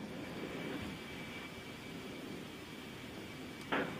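Heavy military transport aircraft engines during takeoff, a steady, distant droning roar heard faintly and evenly throughout, with a brief sharp sound near the end.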